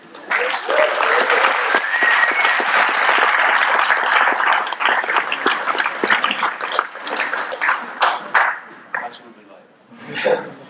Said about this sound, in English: Everyone cheer Chris.